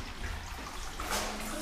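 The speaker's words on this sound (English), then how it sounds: "Some running water." Running water trickles and splashes steadily inside a cave, a close, continuous wash of flowing water with no talking over it.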